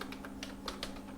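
Code typed on a computer keyboard, a quick run of soft, close key clicks in an uneven rhythm over a faint steady hum.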